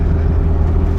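A Toyota MR2 Turbo's engine drones steadily in second gear, a loud, low, continuous rumble heard from inside the car.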